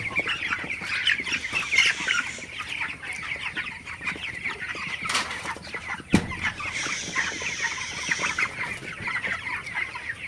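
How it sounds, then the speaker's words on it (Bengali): A flock of 21-day-old broiler chickens, hungry after late feeding, clucking and squawking continuously and close by, with busy overlapping calls throughout and a brief thump partway through. "মুরগিগুলো কিন্তু একদম পাগল হয়ে গেছিল খাবারের জন্য"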